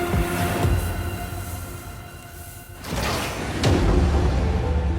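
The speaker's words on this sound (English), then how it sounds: "Sandra switches on the sandbox and fires a blast of sand in front of the wheels." A mountain train's sandbox fires blasts of dry sand in front of the wheels, a loud continuous hissing rush over the rumble of the running train, with two sharper bursts partway through.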